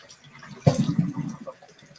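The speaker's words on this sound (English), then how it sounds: "I'm over here cleaning it out, cleaning it off, giving it a thorough rinse." Tap water splashes and runs over a raw holiday turkey being rinsed inside and out in a kitchen sink, starting abruptly, then a steady close wash that tapers off within about a second and a half.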